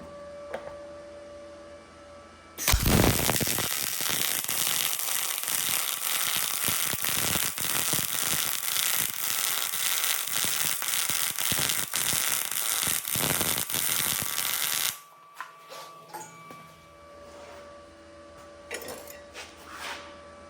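MIG welding on 1/8 inch steel with an Arc Captain MIG 200: a loud, continuous crackling buzz that runs for about twelve seconds, starts and stops abruptly, and is followed by low background hum.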